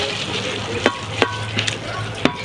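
Fern fronds with okra and sardines sautéing in a pan, a steady close sizzle with a few sharp clacks of a utensil scraping and stirring.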